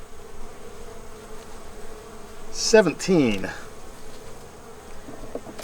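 Honeybees buzz around an open hive during a queen install, a steady insect drone under a man's speech with a louder burst of activity midway.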